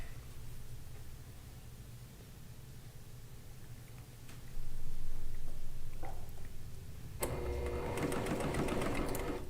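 A sewing machine stitching quilt fabric for a log cabin quilt top: the motor whirs steadily and close, grows louder partway through, then gives way to a denser rattling run of stitching near the end.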